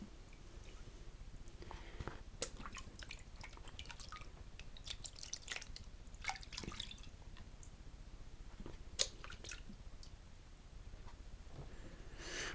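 Water sloshes and drips softly as gold paydirt is washed out of a pan, with irregular wet splashes and squishy trickles close by, fairly quiet.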